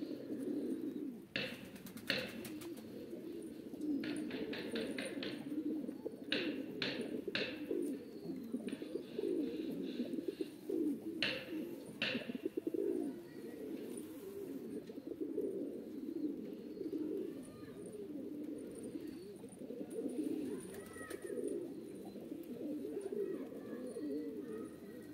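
A Van pigeon coos steadily and close by at dawn, low rolling calls repeating throughout, with brief higher chirps and faint scratchy noises scattered over the first half.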